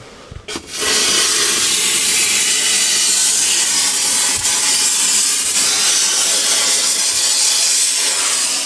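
A steam cleaner used to clean a motorhome gives a loud, continuous hiss that starts suddenly after a short click and holds steady for about eight seconds, with no talking.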